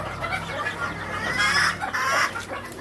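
Chickens in a Benjaro broodcock breeding pen cluck steadily at close range, with a denser, louder burst of clucking in the middle and no voices over it.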